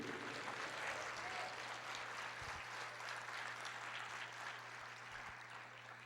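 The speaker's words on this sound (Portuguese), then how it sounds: "Aplauda, Senhor, diga, eu creio." A church congregation applauds during a sermon, producing a steady, dense wash of clapping that holds at a faint, distant level for about six seconds and eases slightly toward the end.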